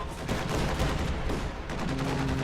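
A video game battle with tier 4 structures, Sturm and Priest units, where dense gunfire and artillery rumble continuously, loud and close, with no pauses.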